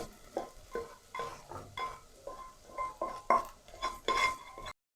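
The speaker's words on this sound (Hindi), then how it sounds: "चिकन को हल्का सा फ्राई किया हमने" Boiled shredded chicken frying with onions in a pan for a chicken sandwich, with repeated stirring scrapes and utensil clinks against the pan over a soft sizzle, close and rhythmic.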